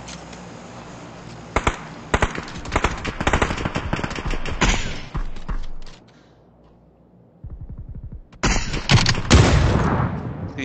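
Rapid automatic gunfire from the video game PUBG Battlegrounds, dense loud bursts of shots filling most of the clip, a short quieter pause, then another heavy volley near the end.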